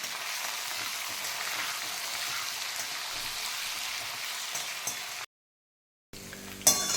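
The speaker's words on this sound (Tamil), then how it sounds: "இப்போ கத்திரிக்காய் நல்லா 2 மினிட்ஸ் நல்லா வதங்கிட்டு" Steady, dense sizzling of eggplant sautéing in a hot pan, continuous for several seconds before cutting out briefly, then resuming.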